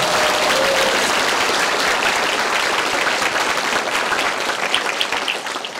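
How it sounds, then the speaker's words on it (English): Audience at a university scholarship announcement giving a sustained round of loud, dense applause that fades slightly toward the end. "Well, can we give Madison Eccles another round of applause?"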